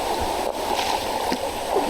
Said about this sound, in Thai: เหมือนเป็นน้ำตกเลยอะ่ะ มันก็น้ำตกแหละเนาะน้ำที่มาจากเขาอะ่ะ